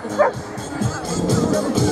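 Guide dogs bark and yip at a country music themed display in Chelmsford, short barks rising out of crowd babble and talk nearby.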